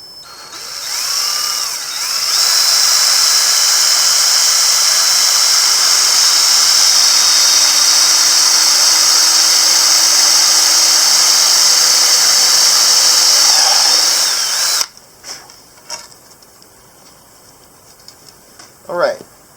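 A power drill drives a screw into a wooden board, its high whirring motor held steady for about twelve seconds before cutting off, followed by a few faint clicks and knocks.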